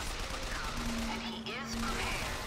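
Dense, continuous gunfire in the video game Bioshock Infinite, a busy fusillade under game effects with a brief tonal whine and whooshing sweeps, heard alone without talk.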